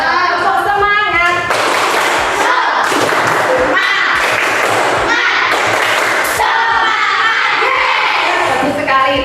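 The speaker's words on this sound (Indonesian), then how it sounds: "kita tepuk semangat lagi biar tetap semangat ya" Schoolchildren in a classroom perform a rhythmic clapping chant, sharp claps and thumps in a steady beat mixed with loud group voices and shouts, continuous throughout.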